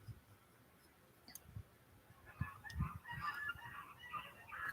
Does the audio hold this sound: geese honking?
yes